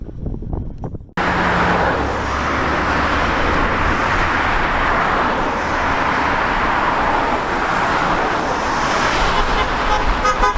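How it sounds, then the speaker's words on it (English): A bus drives past on a busy southern Gold Coast road, heard within steady, fairly loud traffic roar after a brief quieter opening moment. "See that bus going past there?"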